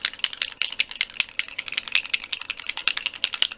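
Beads with a ball rattling inside are shaken by hand, making rapid, irregular clicking and rattling that stays close and fairly loud, with no voices.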